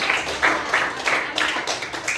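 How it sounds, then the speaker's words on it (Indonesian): A class of students claps briefly during a guidance lesson, a quick series of rhythmic, fairly uniform claps in a steady beat lasting about two seconds. "Tepuk tangan buat saya."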